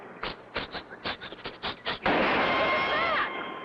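Gunshots are fired at a plane as a rapid series of about eight sharp, loud cracks in an uneven rhythm. A broad, roaring burst of noise follows and holds for over a second before fading.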